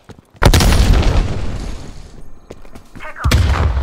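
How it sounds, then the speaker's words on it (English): A frag grenade detonates in the video game Call of Duty Cold War as a sudden heavy boom with a rumbling tail, followed by sharp gunfire cracks and a second loud blast near the end. "Throwing frag grenade."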